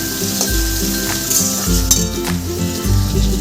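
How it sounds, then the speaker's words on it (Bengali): Onion, garlic and tomato sizzle in a hot pan, with stirring scrapes and light clinks of utensils over a low, rhythmic musical background. "পেঁয়াজ রসুন টমেটো আমি সুন্দর করে ভেজে নেব"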